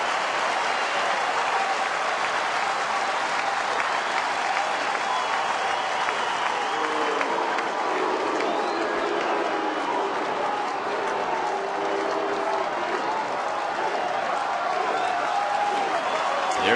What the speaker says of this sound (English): Crowd cheering him on.